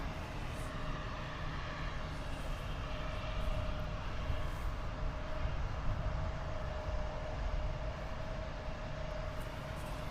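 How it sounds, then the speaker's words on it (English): An Air Canada Rouge Airbus A320 at Toronto airport gives off a continuous, fairly loud engine rumble with a steady tonal whine over broadband roar, with no talk. "Air Canada Rouge. Airbus A320 going to Kelowna."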